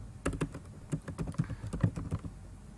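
Command being typed on a computer keyboard: a quick, quiet run of close key clicks in an uneven rhythm, with no talking.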